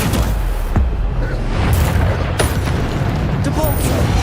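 A Bombarda explosion spell in Hogwarts Legacy booms out amid dense, loud game combat noise, with sharp blast transients standing out against a constant rumble.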